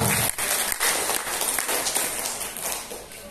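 Bapak-ibu at a workshop and talk on transformative leadership give lively applause, a dense wash of clapping that swells and fades slightly, moderately loud with a murmur of voices mixed in.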